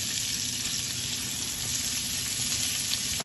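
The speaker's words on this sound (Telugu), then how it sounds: "ఆ పచ్చిమిర్చి వేసి కొంచెం గోల్డెన్ బ్రౌన్ వచ్చే వరకు వేయించుకోవాలి" Onions and green chilies frying in a little oil in a pan while an eggplant pachi pulusu is prepared, giving a steady, dense sizzle that holds at an even level from start to finish with no talking.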